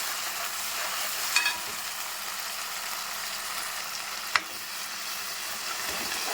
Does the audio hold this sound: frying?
yes